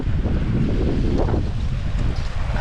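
Heavy wind buffets a boat out on the KRS backwaters, a loud, constant low roar and rumble of gusts hitting the microphone, with no speech.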